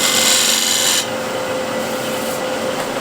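A hand scraper rasps across the inside of a wooden bowl, working into the corner: a loud, dry scrape for about a second, then a softer, steady scratching to the end.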